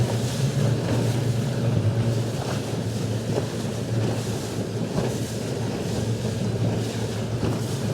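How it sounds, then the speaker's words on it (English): GALA Viking 500 boat at speed on open water, a steady engine drone under continuous rushing water, wind and spray noise, with no pauses. "you can hear the engine picking up now"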